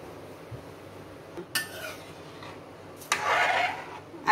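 A spoon scrapes and clinks against a pot of thickening sweet mixture on a gas stove, with a few sparse knocks and one longer scraping stir, close and fairly quiet.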